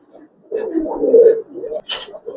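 Giribaz pigeons coo in a low, throaty rolling pattern, with several close calls across the stretch. A short breathy rustle cuts in near the end.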